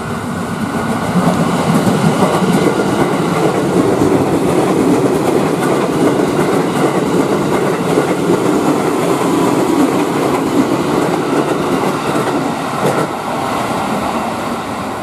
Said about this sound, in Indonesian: Kereta memasuki stasiun Taman Kota.